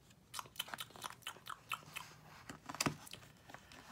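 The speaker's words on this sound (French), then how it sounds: "Le mardi, elle croque dans deux poires." Storybook caterpillar effect of biting into two pears: a series of small, close crunching bites with a wet chewing texture. They come in an irregular rhythm, quiet and without talk, and one bite near the end is louder.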